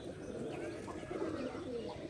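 Pigeons coo close by in a low, steady, overlapping murmur that carries on without a break and with no talk.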